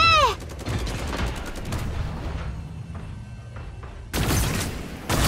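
Gunfire in the mecha battle game Super Mecha Champions: bursts of rapid shots and booming impacts, a quieter stretch of scattered distant fire, then loud heavy blasts returning at the end.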